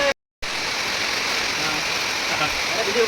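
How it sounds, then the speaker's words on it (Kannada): Heavy rain pours steadily in a dense, continuous hiss, broken only by a brief dropout near the start. "ಮಳೆ ಫುಲ್ ಜೋರ್"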